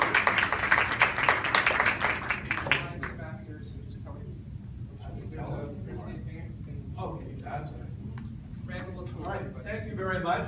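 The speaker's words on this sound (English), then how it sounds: "please give us a round of applause for a national speaker" Brief audience applause for a speaker at a light rail talk, a burst of clapping for the first few seconds that quickly gives way to someone speaking.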